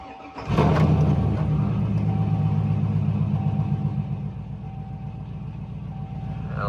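A truck's engine starts and then idles loudly with a steady, deep rumble and faint revving, close by and with no voices.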